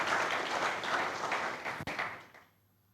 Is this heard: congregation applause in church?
yes